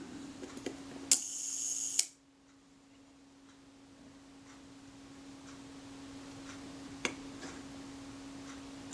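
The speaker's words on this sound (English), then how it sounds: "We'll release the shutter and see what we get." A Braun Paxette Reflex Automatic camera shutter mechanism, partly reassembled, is released: a click opens a bright, brief whirring burst of about a second ending in a sharp snap, then quiet with faint ticks against a steady hum.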